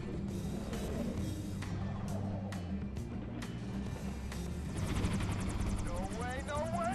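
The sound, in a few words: helicopters in the video game Wolfenstein: The New Order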